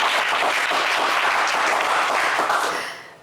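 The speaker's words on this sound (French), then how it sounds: "mais on vous applaudit quand même bien fort" Studio audience applause on a French TV quiz show, a dense, loud wash of clapping that holds steady before tapering off at the end.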